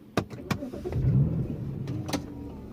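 A BMW 335i DCT starts up in close range: a couple of sharp clicks and a starter whirr, then the engine catches into a low, steady idle rumble with another click near the end.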